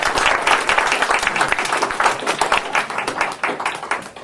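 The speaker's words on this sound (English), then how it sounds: "So I think he deserves a round of applause just for that." Meeting attendees applauding at a quarterly meeting, a small group clapping close by with distinct individual claps in an irregular, lively patter that continues throughout.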